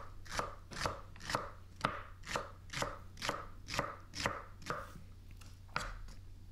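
A knife chops a seeded jalapeno on a cutting board in about a dozen crisp, evenly spaced strokes, close and clear in a quiet kitchen with no voices.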